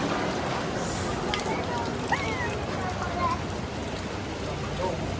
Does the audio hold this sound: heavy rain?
yes